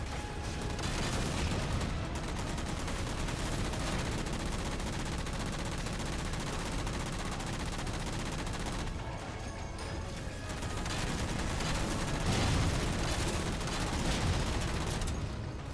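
Heavy gunfire from a vehicle's main gun in a Halo Spartan Ops mission, a loud, continuous barrage of rapid shots and blasts layered with mechanical clatter and crashes.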